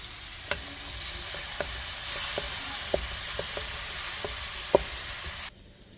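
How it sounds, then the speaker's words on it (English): Food, including peppers, sautéing in a pan turned down to medium heat, a steady sizzle with occasional sharp spatula taps and scrapes, fairly close, before the sound cuts off near the end. "just let that saute"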